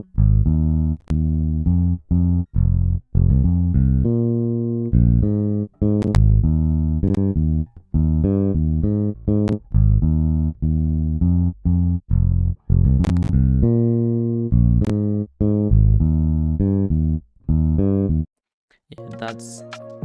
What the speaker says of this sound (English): So this is how my bass sound like